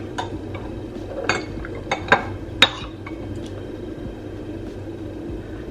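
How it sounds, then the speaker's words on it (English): A metal spoon clinks and scrapes against a jar and dish while scooping jam onto Romanian semolina dumplings, several sharp close clinks in a brief cluster over quiet room noise. "Taking a spoon, taking the jam. Let's go with the jam. Put it in."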